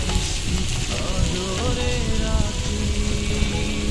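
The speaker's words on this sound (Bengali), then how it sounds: "এখন আমি ধুয়ে রাখা করলা ও ডাল দিয়ে দিচ্ছি" Bitter gourd and lentils tipped into a pan of browning onions and garlic set off a loud, steady sizzle and crackle of frying, with some stirring throughout.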